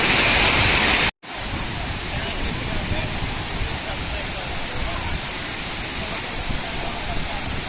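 Water pouring over Singa Samudram waterfall, a steady dense broadband roar that fills the scene after a brief cut near the start, loud and continuous.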